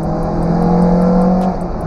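A car engine is blipped by a quick throttle stab during a rev-matched downshift, giving a loud, close, sustained buzzing rev with a steady droning tone. It eases off right at the end.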